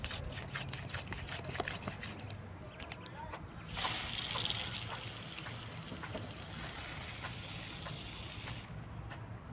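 Water poured onto young cherry tomato plants in a pot, a steady splashing and trickling running through most of the stretch, with a louder surge near the middle, under background noise.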